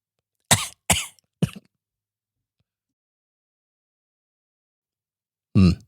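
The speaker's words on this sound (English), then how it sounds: "I was going to edit out the little cough," A person coughs three times in quick succession, close and clear against silence, then gives one more cough after a long pause.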